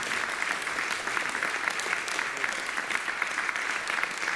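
Steady, dense audience applause at the close of a climate forum round-table discussion in Quebec, continuous and fairly close with no talking over it.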